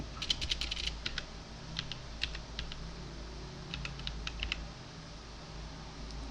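Typing on a computer keyboard into the Windows search box, quick clusters of crisp key clicks separated by short pauses, fairly quiet over a faint room hum with no talking.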